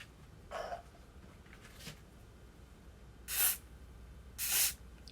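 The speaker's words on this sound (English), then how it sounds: "Just gonna spray." Hair spray from an aerosol can, hissing in two short, fairly loud bursts close to the mic during a hair installation at home. A couple of fainter rustles come before the sprays.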